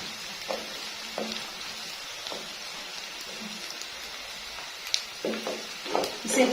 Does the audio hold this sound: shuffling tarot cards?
no